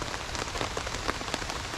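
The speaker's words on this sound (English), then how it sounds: "the rain just is not letting up" Heavy rain pours steadily over a campsite in late spring, a dense, close hiss of drops drumming on surfaces with scattered louder individual splats and no voices.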